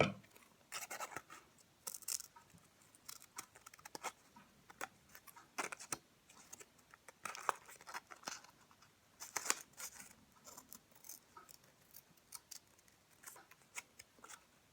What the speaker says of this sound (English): now we are going to cut those pieces off